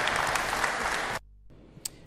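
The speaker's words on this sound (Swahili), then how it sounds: "Sherehe hiyo imefanyika chini ya vigelegele na shangwe" Cheering and ululation from a crowd at a judo day celebration, a dense, loud burst that cuts off abruptly, leaving a quiet room with faint scattered noises.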